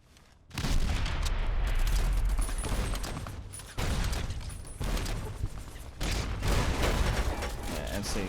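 Grenades explode in Fallout: The Frontier, several heavy bursts arriving one after another with rumbling low-end booms and debris noise, loud and close with short gaps between the blasts.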